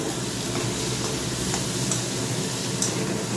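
Bitter gourd and potato chorchori cooks in a pan with a soft, continuous sizzle and light stirring scrapes, close and steady, with a few faint ticks.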